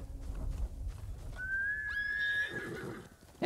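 A horse in the video game Ghost of Tsushima gives a single clear whinny, a rising and falling neigh standing out over a quiet ambient game background.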